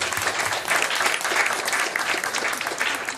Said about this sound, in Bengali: আপনারা হাততালি দিন